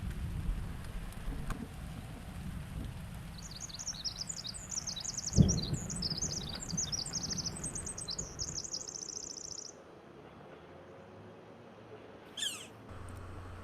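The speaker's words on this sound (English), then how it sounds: "The constant songs of a pair of resident Pacific wrens deep within the lot perfectly complements the sound of falling rain" A Pacific wren delivers a long, rapid, tinkling trill over a soft steady hiss of falling rain in an urban forest, faint and distant, with a brief second burst later.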